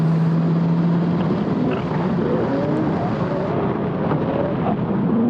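A Mazda Miata ND3 and another car accelerate on a track at Thunderhill Raceway, a loud continuous engine roar with rising pitch, close and dense with wind noise.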